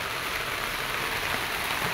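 Steady rain falls outdoors in Camarines Sur, a continuous loud hiss with no gaps, with a faint low engine-like rumble underneath and no talking.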